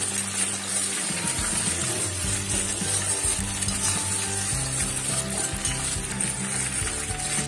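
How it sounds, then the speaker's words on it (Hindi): Okra (bhindi) fries in a pan with a steady close sizzle and crackle, stirring scrapes and soft knocks running through it throughout. "देख सकते हैं हमारी भिंडी भून चुकी है।"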